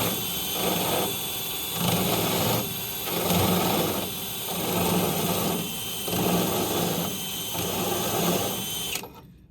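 Power drill on a 240Z race car build, spinning in repeated surges roughly every 1.5 seconds as it is worked in and out, loud and steady with a whirring, sewing-machine-like drone, cutting off abruptly near the end.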